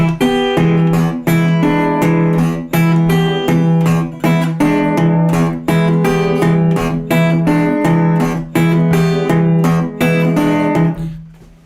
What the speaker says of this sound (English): Let's get into this Delta blues riff.